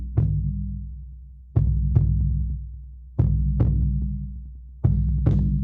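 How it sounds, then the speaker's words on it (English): A heartbeat rhythm played for a Vision Quest song: deep, paired thumps repeating steadily about every one and a half seconds over a continuous low hum, with no voices. "So we'll start with the heartbeat rhythm as we discussed"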